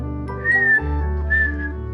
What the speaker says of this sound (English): Just whistle or shout to bring them out.